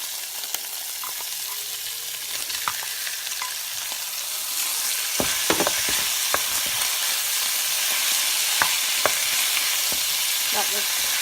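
Ackee and salt fish sizzle steadily in a hot pan for Jamaican ackee and salt fish, a continuous close frying hiss that grows louder partway through, with occasional stirring clicks and no talk.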